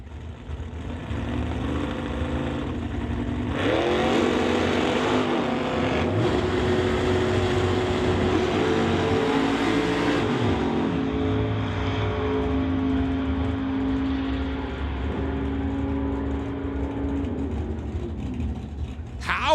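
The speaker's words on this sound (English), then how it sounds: "Got the old Corvette coming on up your TCS side to race Steve Lowe in the Camaro" An old Corvette and a Camaro drag race side by side at a drag strip, with a sustained loud engine roar that swells as they launch and holds through the pass under an announcer's voice.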